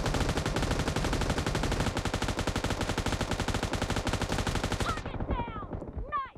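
Rapid automatic gunfire from a shooter video game, loud and unbroken for about five seconds, then cutting off abruptly to near silence with a few faint chirps.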